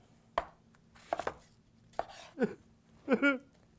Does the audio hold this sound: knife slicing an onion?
yes